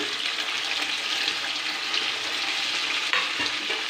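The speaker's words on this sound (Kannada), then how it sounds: "ಅದನ್ನು ಚೆನ್ನಾಗಿ ಫ್ರೈ ಮಾಡಬೇಕು ಟೊಮೊಟೊನು ಸಾಫ್ಟ್ ಆಗಬೇಕು" Onions and tomatoes for Hyderabadi chicken dum biryani fry in a pan with a loud, continuous, close hissing sizzle, steady throughout with one small clatter near the end and no talk.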